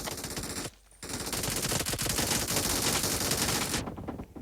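Bursts of automatic gunfire in a team shooter video game, loud and dense, firing almost continuously with a short break near the start and stopping toward the end.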